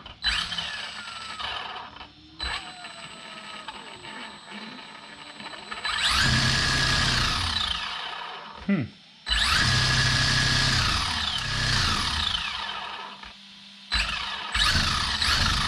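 A Traxxas RC drag car motor powered up on the bench, whining in loud rising and falling bursts of a few seconds each, separated by brief quiet gaps and quieter idle stretches.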